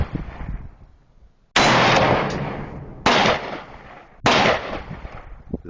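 Rifle gunfire from a Rock River Arms LAR-8 at an outdoor shooting range: three loud, sharp shots spaced about a second and a half apart, each ringing out with a decaying tail, no talking.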